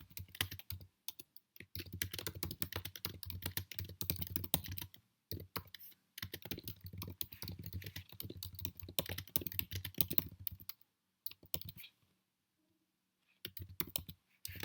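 Fast typing on a computer keyboard, dense bursts of quick clicking keystrokes with short pauses and a longer silent gap near the end, close and clear with no talk.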